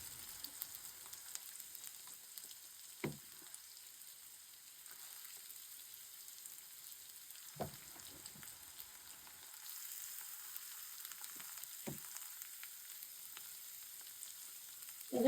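Onions frying in hot oil for a chicken sandwich, a steady soft sizzle running throughout with a few brief stirring knocks, close and fairly quiet, no voices.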